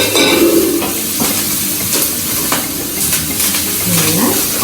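Stuffing mix with oregano and cracked pepper sizzles and pops steadily in a hot pan, a close, continuous frying crackle with occasional stirring scrapes and clinks of the utensil against the pan.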